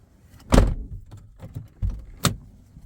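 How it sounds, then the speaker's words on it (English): A 2005 Saturn Vue's inner door handle is pulled and the car door opens, giving a few sharp close clicks and thumps of the latch spread over a couple of seconds, with no talking. "this is how you change the door handle, and that way it opens"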